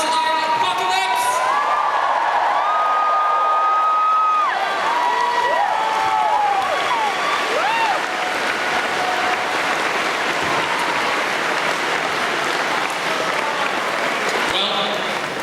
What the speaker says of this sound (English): Big round of applause to all the tech staff and the committee and everybody that's worked on SNL